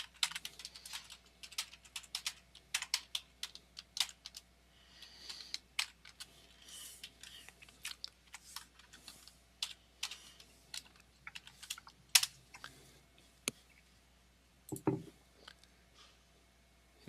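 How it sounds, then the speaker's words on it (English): Typing on a computer keyboard during an online webinar, with rapid irregular clicks in bursts and short pauses, close and moderately loud in a quiet room with no talk. "I'll type it in."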